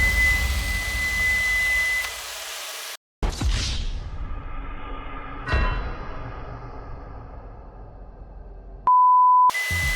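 A kitchen timer during quick chicken pasta cooking: a thin steady tone for a couple of seconds, a cut, background kitchen noise and whooshes, then a loud sustained beep near the end.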